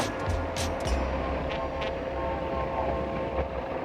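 Thomas the cartoon steam engine hauls his coaches Annie and Clarabel into a station, a steady low rolling rumble with hissing bursts and faint whistle-like tones throughout.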